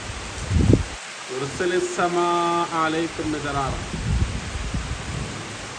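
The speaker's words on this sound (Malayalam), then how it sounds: "മഴ !!!" Steady rain hisses with low rumbles of thunder, and a voice sounds briefly in the middle before the downpour continues alone.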